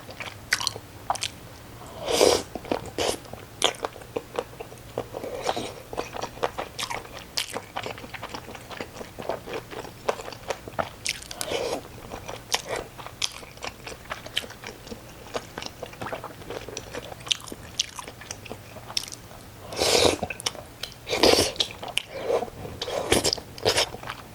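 Close, crisp bites and wet chewing of Kyochon honey combo fried chicken and Yupki tteokbokki with glass noodles, with crunchy bursts recurring irregularly over a quiet background.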